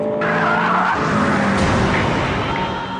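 A car on a race track skids with understeer, its tires squealing loudly and continuously over the engine noise for a few seconds.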